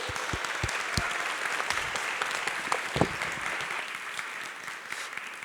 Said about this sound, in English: very warm applause.